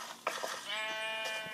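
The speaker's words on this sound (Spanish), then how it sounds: "Y lo otro sería las ovejas, que las tengo aquí dentro." Sheep bleat in Minecraft Pocket Edition inside an animal stable, a short quiet bleat followed by a longer wavering one, faint and close with no talk.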